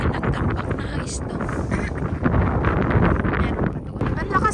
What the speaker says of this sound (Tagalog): Sobra naman ang lakas ng hangin.